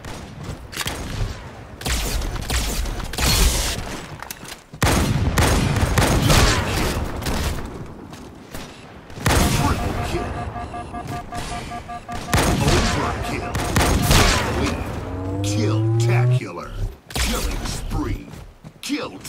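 Rapid bursts of gunfire from a Halo firefight ring out in dense, overlapping volleys, with loud shots and explosions stacked across the clip and a brief rising electronic whine near the end; no talk is heard.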